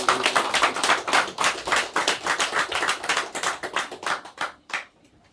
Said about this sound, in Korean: 하나님께 영광의 박수를